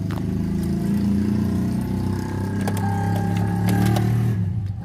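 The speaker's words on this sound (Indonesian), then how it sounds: "Kita masuk dan kita starter." The engine of a 2019 Daihatsu Terios X Deluxe with manual transmission turns over and settles into a steady idle, close and continuous, with brief dashboard chimes partway through.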